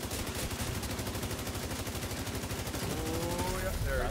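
Sustained automatic gunfire in the video game The Division 2, made up of rapid, dense, loud repeating shots that run continuously through the whole stretch, with a rising whistle-like tone near the end.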